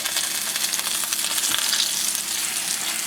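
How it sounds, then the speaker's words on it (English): Pork chops sizzle steadily in a hot pan, a loud, dense, continuous frying hiss close by, with no voices. "we're going to start to saute our pork chops off"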